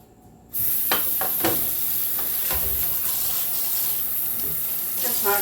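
Hot water runs from a tap into a kitchen sink while refrigerator mats are washed in soapy water, a loud constant splashing stream starting abruptly, with scrubbing and handling noises over it.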